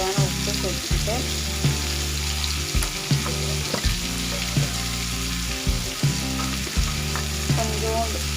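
Ivy gourd frying in a pan gives a steady sizzle, broken by repeated scraping stirs at a regular pace, close and fairly loud, with no talking.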